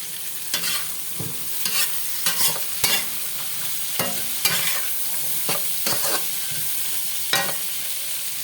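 Squash, string beans and eggplant frying in a pan, a steady sizzle broken by repeated scraping stirs at an uneven rhythm, close and alone.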